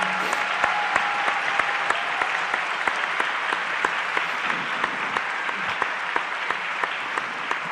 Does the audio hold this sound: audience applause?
yes